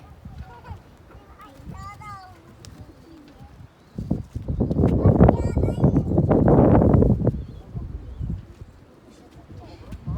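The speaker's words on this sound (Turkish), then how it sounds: "Güvercinleri görelim diye" Pigeons coo in low, soft, repeated calls at a backyard pigeon coop with birds chirping around them, while people talk nearby and a louder rustling flurry rises midway.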